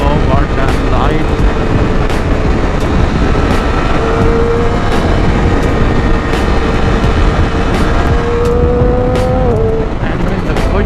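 A 2015 Triumph Daytona 675R is ridden fast, its engine a loud continuous drone with rising pitch across gear changes, under heavy wind roar, with a rider talking over it.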